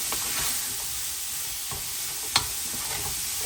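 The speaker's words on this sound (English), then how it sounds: "we'll cook it off until our tomatoes are nicely cooked off" Tomatoes cooking in a pot of lamb shank palau give a steady, soft sizzle with faint stirring scrapes and one sharp utensil knock near the end. No one speaks.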